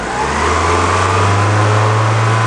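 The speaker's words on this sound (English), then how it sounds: "So I'm gonna rev the engine," A Kia Sportage engine revs loud and steady up close, a sustained mid-pitched drone holding a constant speed through the whole stretch during a propane enrichment test.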